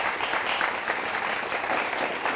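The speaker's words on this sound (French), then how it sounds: "on les applaudit un peu" An audience claps steadily and densely for a cohort of trained young people, a continuous wash of applause with no talking over it.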